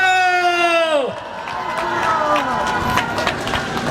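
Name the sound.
audience applause and cheering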